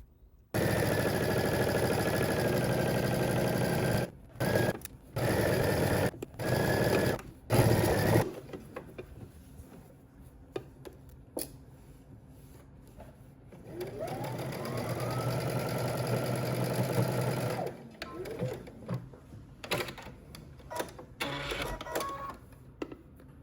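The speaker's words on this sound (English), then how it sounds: "we're going to head to the sewing machine and stitch this in place using 5/8 of an inch seam allowance" A sewing machine stitches a skirt seam at a 5/8-inch allowance in several loud whirring bursts, stopping and starting, then a longer steady run near the end with quieter handling between.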